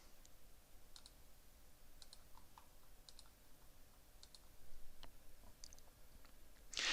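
Faint, sparse mouse clicks on a computer while selecting verbs on the conjuguemos website: about a dozen light, isolated clicks spread over several seconds against quiet room noise, ending with a louder burst.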